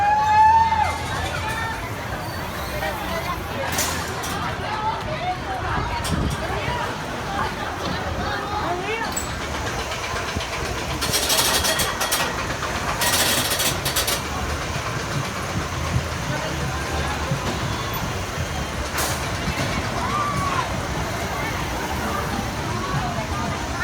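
The Galaxy Spin spinning coaster at a Fun Spot America theme park rumbles and rattles steadily along its track, loud and continuous, with crowd chatter and occasional screams mixed in.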